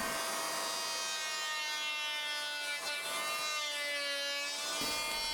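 A power planer shaves excess wood off tightly clamped composite wood strips for a mast, giving a steady, loud cutting whine with a rough rasp that holds for the whole stretch with no talk.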